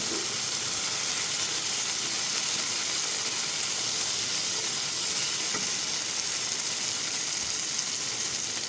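Spices for a Bengali-style Rui fish curry fry in a pan, giving a steady, even sizzle and hiss throughout with no voices.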